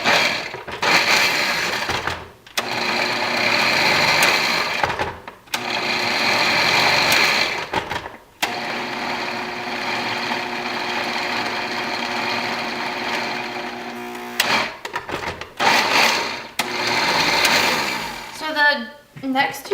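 A food processor grating and blending cauliflower into rice, loud whirring bursts of motor noise separated by short pauses, with one longer steady run in the middle.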